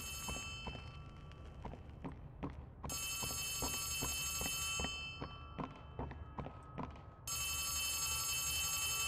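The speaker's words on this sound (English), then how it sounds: "It's a phone call down here." In the Poppy Playtime Chapter 3 horror game, a telephone rings in repeated bursts, separated by short pauses, over a steady background hum with regular thudding footsteps.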